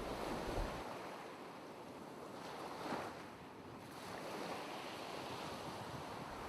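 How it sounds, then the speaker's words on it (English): Gentle ocean surf washing in and out, a soft, continuous roar of waves with some wind noise, fairly quiet and steady with no voices. "I want you to close your eyes, imagine the cool waves, and enjoy your listen."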